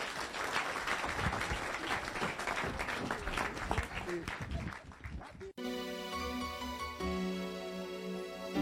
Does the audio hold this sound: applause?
yes